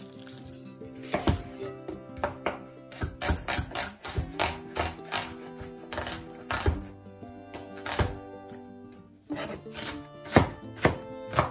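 An onion is chopped into small pieces with a knife on a wooden board, producing rapid, closely spaced knocks in an uneven rhythm, loud and close, with no talk over it.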